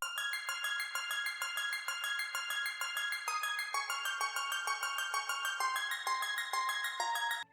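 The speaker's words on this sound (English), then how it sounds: "why not add a simple little guitar just to fill in a bit more space and give a bit more rhythm" A simple guitar loop layered for a vocal sample plays a steady rhythmic pattern of bright plucked notes, repeating evenly and close with no talking.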